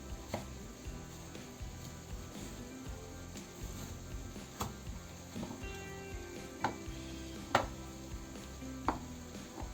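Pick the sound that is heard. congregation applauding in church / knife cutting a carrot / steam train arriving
knife cutting a carrot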